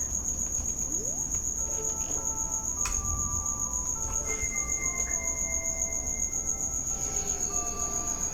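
Inside a room, a loud cricket keeps up a shrill, unbroken chirping trill while quiet video game tones and effects play underneath.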